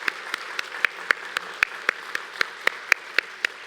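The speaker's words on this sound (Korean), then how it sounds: "박수로 격려하며 환영하겠습니다." A church congregation claps in welcome and encouragement, though the sharp, evenly spaced slaps sound more like a single pair of hands or a few people than a full crowd, at a moderate level with no talking.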